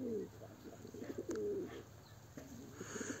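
Pigeons in a loft during their moult, cooing in soft repeated phrases close by, with a steady low background hum and a brief rustle partway through.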